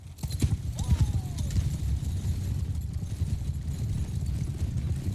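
Many horses gallop in the video game Mount and Blade II: Bannerlord, with dense rolling hoofbeats that thunder continuously throughout and a brief neigh early on.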